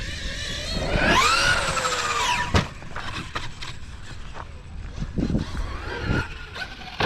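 A Traxxas XRT RC truck with GPM Racing diff gears revs hard and then goes quiet as it attempts a backflip on dirt. A loud rising motor whine is followed by a thump and scattered clatter and scuffs outdoors.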